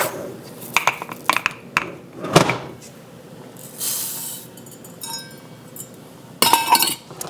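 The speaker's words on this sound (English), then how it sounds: "I just like to move the pan around a little bit to kind of stir it." Pan of rice, butter, spices and water at a boil being shifted around on the stove, giving scattered close clinks and knocks of metal and glass, a brief rush of hiss, then a louder clatter near the end.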